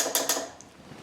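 Animatronic solenoid in a Cyberamic character clicks, two quick sharp mechanical snaps followed by a softer tick, close and faint with a short metallic tail and no voices.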